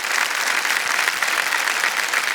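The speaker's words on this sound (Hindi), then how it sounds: "एक बार तालियां बज जाए।" A studio audience at a television quiz show breaks into steady, dense applause, many hands clapping together at close range, with no talk over it.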